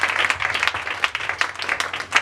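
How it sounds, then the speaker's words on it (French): A church congregation claps loudly and steadily for Jesus, with dense overlapping applause throughout. "Est-ce qu'on peut acclamer très fort pour Jésus?"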